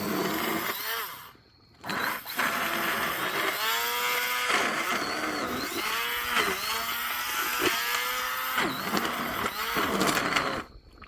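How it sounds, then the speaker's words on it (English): A handheld immersion blender mixing South Carolina BBQ pork hash whirs loudly and continuously, its motor pitch rising and falling as it works in bursts, with a brief pause near the start. "or an immersion blender. So we're going to use that."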